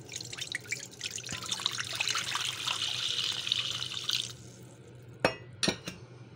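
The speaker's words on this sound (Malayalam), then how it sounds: "അതിലേക്ക് കുറച്ച് വെള്ളം ആഡ് ചെയ്യാം." Water poured into a bowl of salt while making wheat paratha dough: a steady, close splashing hiss for about four seconds, then a couple of sharp clinks of a vessel.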